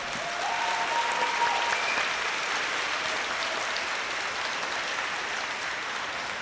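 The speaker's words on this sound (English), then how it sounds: "we give a great round of applause to all of the supporters" At a high school state title celebration, a crowd gives a loud, sustained round of applause for the team's supporters. The clapping stays steady and dense from start to finish.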